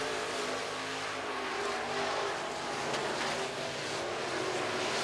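Sport mod race cars roar around RPM Speedway during a heat race, a dense, continuous engine drone with fluctuating revs from the pack and no break for the whole stretch.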